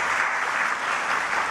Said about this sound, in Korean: 함께 우리 박수 한번 치도록 하겠습니다